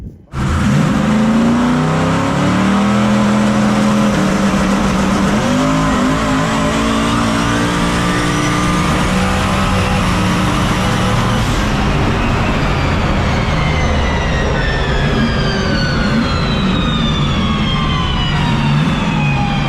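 A No Prep 4x4 NASCAR truck roars loud and close through a hard run, its engine note climbing steadily, shifting partway through, then climbing again.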